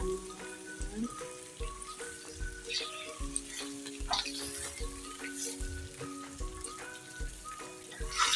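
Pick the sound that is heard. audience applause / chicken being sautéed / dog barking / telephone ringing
chicken being sautéed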